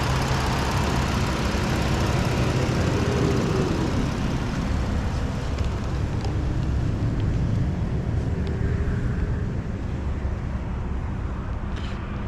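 The 3.7 liter V6 engine of a 2016 Ford Explorer Police Interceptor runs at a steady, low, continuous hum, with light clicks and faint background noise over it.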